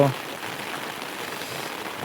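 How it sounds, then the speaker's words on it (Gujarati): Morning rain falling steadily on surfaces outdoors, a soft continuous patter of drops at moderate level with a brief voice-like sound at the very start. "આ સવાર સવારમાં વરસાદ આવે છે જો"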